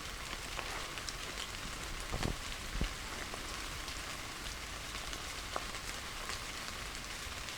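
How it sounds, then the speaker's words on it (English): Steady rain falls through woodland in the Surrey Hills, heard from beneath a tree as a constant, soft hiss with occasional heavier drips landing nearby. "So currently we're stood under a tree, it's raining."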